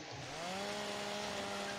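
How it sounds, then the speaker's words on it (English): A chainsaw in a farming video game runs steadily, its engine whine holding a sustained, slightly rising pitch that is loud and continuous throughout, alone without speech. "That noisy chainsaw."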